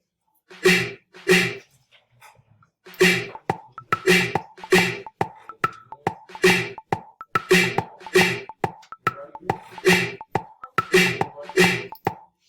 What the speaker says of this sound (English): Check my snare drum loop out.